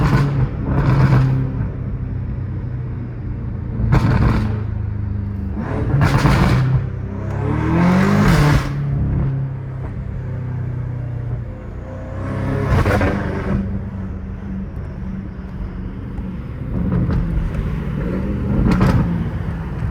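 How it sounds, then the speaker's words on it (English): A straight-piped BMW M5 Competition revs in loud repeated bursts over a steady rumbling idle, several sharp blips spaced a few seconds apart and close by. "I feel like putting the straight pipe changed like literally the whole entire sound."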